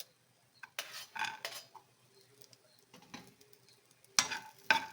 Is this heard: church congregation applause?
no